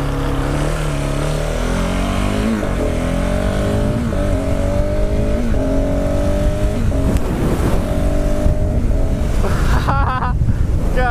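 A KTM 690 Supermoto motorcycle rides and accelerates, its single-cylinder engine rising through the revs in repeated loud pulls with gear shifts, under heavy wind rush, close and continuous.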